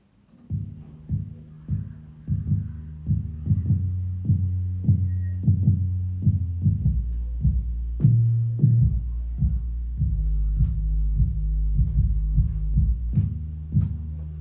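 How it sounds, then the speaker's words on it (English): Deep, booming 808 bass notes pulse in a steady rhythmic pattern, each hit sustaining and sliding in pitch, loud and alone with no voices. "This is what the 808 sounds like."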